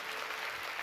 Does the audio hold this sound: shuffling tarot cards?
no